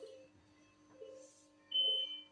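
Hospital bed alarm sounding, a few faint electronic beeps and tones in a quiet room, ending with a brief, louder high-pitched beep.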